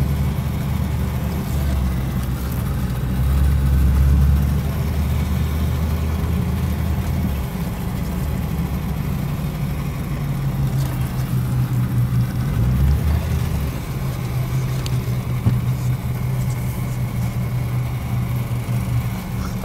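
A 1971 Rolls Royce Silver Shadow engine idles smoothly, a steady low rumble that holds for the whole stretch with slight swells and no voices.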